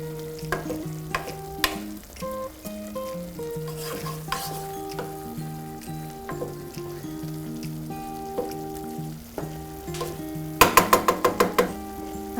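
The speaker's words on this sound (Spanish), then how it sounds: "Vamos a volcar un poquito de curry, que es el protagonista del plato de hoy. Y vamos a integrar." Chicken sizzles steadily in a pan as curry is stirred in, with soft scraping and clinks of a utensil against the pan and a burst of sharper metallic taps near the end.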